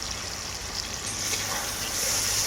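A spice paste with turmeric sautés in a pan for a radish and red lentil dal, giving a soft, steady sizzle that stays faint and even throughout, with no talking.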